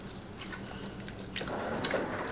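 Crab dip ingredients are stirred together in a bowl, producing soft, wet scraping and squelching sounds nearby in a quiet kitchen.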